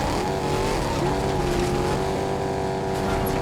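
Truck driving in the Fortnite video game, a steady loud engine drone with tire squeal and skidding running throughout, no talking.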